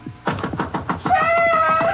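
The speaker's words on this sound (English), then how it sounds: "He slips on a bathrobe and walks downstairs as the knocking continues." Urgent, rapid knocking on a house door in a radio drama sounds as a loud run of close raps, with a sustained whistling tone rising over the later knocks.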